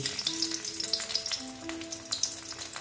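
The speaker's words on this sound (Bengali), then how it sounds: "তেলটা প্রায় হয়ে এসছে আমি এইবার রসুনগুলো দিয়ে দিচ্ছি" Garlic goes into hot oil in a pan and sets off a steady, crackling sizzle of frying, with a few faint metallic clinks and stirring sounds.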